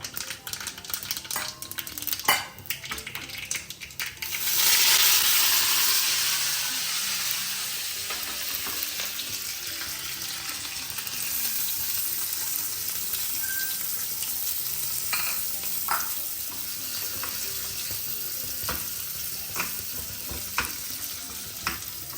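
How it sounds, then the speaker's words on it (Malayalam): Steady oil sizzle and crackle of mustard seeds and onions frying, with occasional sharp pops of bursting seeds and a stirring utensil scraping the pan, close up and continuous. "ഒരു ഫുൾ ടീസ്പൂൺ കടുക് പൊട്ടിയിട്ട് ഉള്ളി ഇടും"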